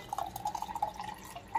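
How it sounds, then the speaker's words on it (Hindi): Milk is poured into boiling masala chai in a pan, making a soft, steady trickle with small bubbling drips. The sound is faint and close. "उसके बाद मैं मिल्क डाल रही हूँ।"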